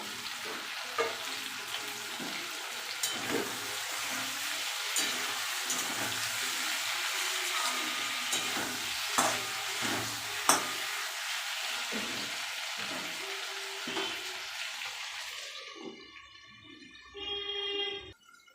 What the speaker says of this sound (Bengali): আর এদিকে তো সবজি ভাজা চলছে